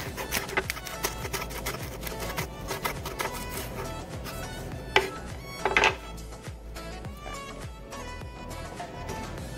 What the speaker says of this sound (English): now I'm just gonna chop up this lettuce